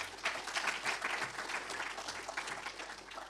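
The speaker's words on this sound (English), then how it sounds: "Give them a round of applause" An audience at an advertising industry gaming summit in Australia claps for a panel, producing a steady, moderately faint patter of many hands throughout.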